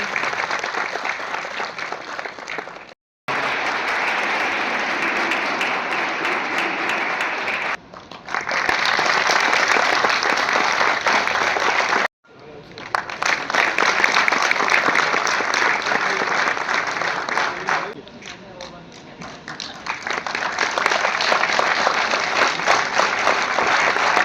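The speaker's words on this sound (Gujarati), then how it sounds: "ખૂબ જોરદાર તાળીઓ થવી જોઈએ મિત્રો" Audience applause at a skills honour award ceremony held by the ITI Jamnagar family, steady loud clapping from a crowd with a few abrupt silent gaps between bursts, one stretch briefly softening before swelling again.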